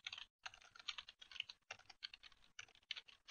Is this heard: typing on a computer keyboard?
yes